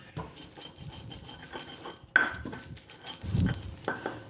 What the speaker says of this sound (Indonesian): Lengkuas kita geprek.